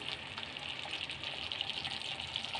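Water poured into simmering fish curry masala, a short, steady gushing splash with a bubbling hiss in the pan, fairly quiet and uninterrupted, with no one talking.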